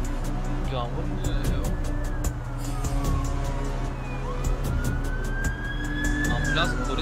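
An emergency siren, police or ambulance, wails on a rainy night in the video game Late Shift, rising and falling over a continuous engine and road hum. People talk over it throughout.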